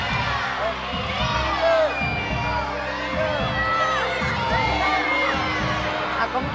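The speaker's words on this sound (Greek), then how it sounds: "Ακόμη και ο Γιώργος Λεβέδης την χειροκροτεί." Studio audience at an X Factor Greece talent show applauds and cheers loudly after a girl's performance, steady clapping mixed with whoops and high excited shouts throughout.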